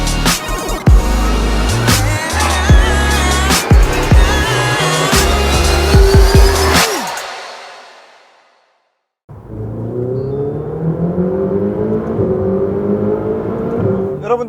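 A Ferrari 488 GTB's turbocharged engine revs hard toward high rpm, loud and rasping with sharp bursts, then cuts out to a brief silence before the engine rises again in a steady climbing drone.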